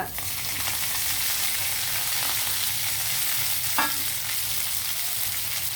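Fresh coriander frying in a little oil in a pan, a steady close sizzle and hiss throughout with a brief stirring scrape near the end and no talking.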